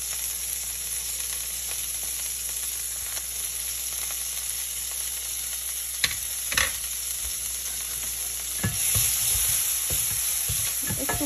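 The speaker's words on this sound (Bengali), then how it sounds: "আজকে আমি সব রান্নাগুলোই বাটার দিয়েই করবো।" Chopped garlic fries in butter in a pan, giving a continuous close sizzle with occasional stirring clatters and a brief swell of hissing toward the end.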